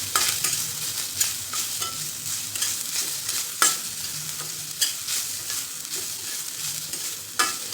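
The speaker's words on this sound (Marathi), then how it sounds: "तर आपल्याला ह्यामध्ये 1 कप नारळाचा चव परतून घ्यायचा." Grated coconut, still with its skin, is stirred and sautéed in a pan, with a steady close sizzle broken by repeated scraping strokes of the spoon; no talking.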